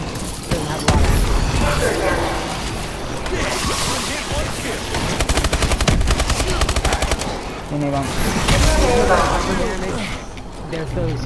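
Rapid assault rifle fire in the shooter game Call of Duty: Advanced Warfare, loud sustained automatic bursts with short pauses, mixed with other game sounds while people talk over it.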